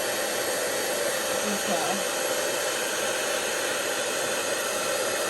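A heat embossing tool blows hot air over paper and embossing powder while making a card, a steady loud whirring hiss throughout. A voice briefly speaks at the start.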